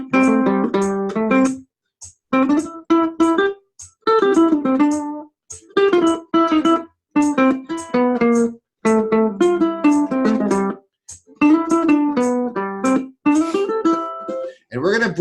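A folk tune, She'll Be Coming Around the Mountain, played on a melodic instrument with jazz syncopation and improvisation. Short phrases repeat in bright, choppy bursts with brief gaps, close and clear, without voices.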